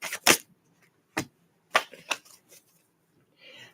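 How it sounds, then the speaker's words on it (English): Tarot cards are shuffled in a series of sharp riffling bursts, several quick crisp flutters spaced irregularly and heard up close, then a softer rustle at the end. "Last shuffle."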